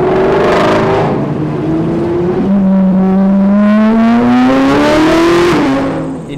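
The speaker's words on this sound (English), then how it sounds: "I will now take you to the crowds of a car show and the noise of race cars" Race cars at the Drive Festival car show at Canadian Tire Motorsports Park near Bowmanville, Ontario, roar loudly close by, engines revving and climbing in pitch as they accelerate, with a continuous whine of motors filling the whole stretch.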